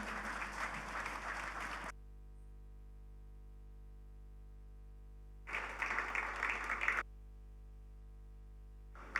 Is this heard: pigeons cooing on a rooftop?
no